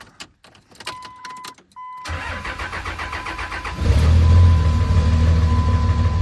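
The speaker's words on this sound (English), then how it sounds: "So I'm gonna turn the truck on for a split second and then shut it back off." A third-generation Cummins diesel truck engine: key chimes and the starter crank, then the engine catches and idles with a deep, steady rumble that swells louder, close by with no talk.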